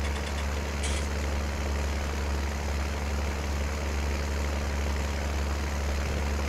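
Tractor engine idling and running steadily in a farming video game, a constant low diesel drone with a faint high whine and no pauses throughout.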